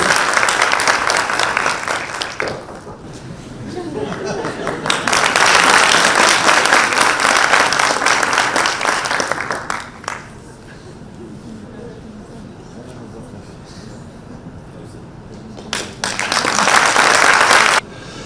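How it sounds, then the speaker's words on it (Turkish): An audience at a youth conference in Turkey breaks into applause in loud bursts, fading to quieter talk in between and then swelling again near the end. "Alkışlarla sahneye davet ediyoruz."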